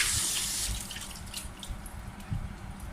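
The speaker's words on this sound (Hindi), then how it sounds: "हाथ अच्छे से धो लिए।" Hands are washed under a running kitchen tap, giving a steady splashing stream of water close by that tapers slightly with a few light drips.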